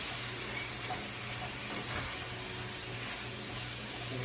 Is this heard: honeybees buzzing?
no